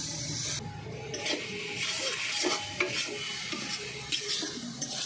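Sugarcane jaggery and grated coconut cooking down in a pan for coconut naru, stirred with irregular scraping strokes over a soft, steady bubbling sizzle, close and moderately loud.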